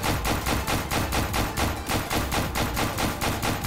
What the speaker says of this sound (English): I'm being shot here.